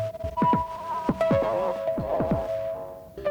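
A Chroma Console effects unit set to its Texture effect in Interference mode in a dawless synth setup, giving a steady tonal drone under repeated downward-sweeping pitched blips that throb and smear, loud and close with no voices.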